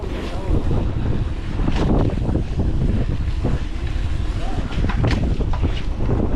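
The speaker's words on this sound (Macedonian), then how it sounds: "Ама гледай, дува много, ай ово." Strong wind roars steadily and loudly across a microphone during Sunday downhill mountain-bike training ahead of the Toptash Downhill Cup near Prilep, buffeting without a break and masking other sounds.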